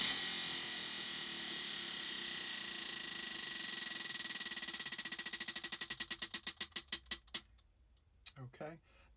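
A spun prize wheel clicks rapidly against its ratchet pawl, the ticks slowing into distinct, spaced clicks until it stops, close and fairly loud.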